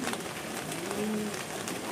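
A pigeon gives a low, soft coo against a steady background hiss, heard once and briefly at close range.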